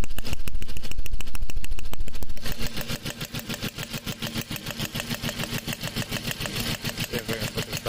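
Audi A4 1.8T four-cylinder engine idling rough with a misfire, a close, uneven pulsing chug that is loud at first and then drops to a quieter, still-stumbling idle.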